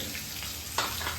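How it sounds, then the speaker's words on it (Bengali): A fish head frying in oil makes a steady, close sizzling crackle, with one slightly louder spatter near the end and no talk. "মাছের মাথা ভাজা হচ্ছে"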